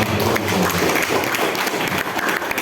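Applause from an audience at a formal gathering of the FSBK in Semarang, a dense, steady wash of clapping that stays loud and continuous across the whole moment with no voices breaking through.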